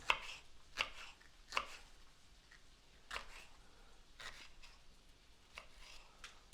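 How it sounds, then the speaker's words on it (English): Chicken sausages sliced lengthwise into strips with a knife, about eight sharp, isolated cuts and taps on a board at an uneven pace with quiet gaps between, close and fairly faint, no speech. "so usually just slice them long ways so they're kind of like strips"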